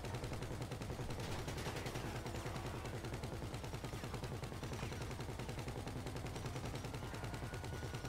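Rapid, dense gunfire rattles continuously in a GTA V robbery scene as a shopkeeper is shot at, with loud repeated bursts filling the whole stretch and no talk over them.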